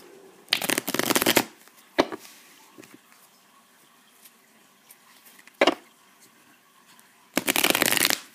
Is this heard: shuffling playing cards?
yes